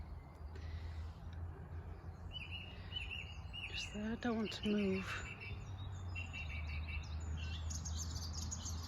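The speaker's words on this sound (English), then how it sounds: "That's a great tit if I'm not mistaken." A great tit sings a few short, thin chirping phrases in the middle, fairly distant against quiet outdoor background hum, while a person speaks softly nearby.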